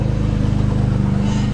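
Loud Mercedes C250 car engine, a deep, throbbing idle rumble held steady and close, cutting off abruptly at the end.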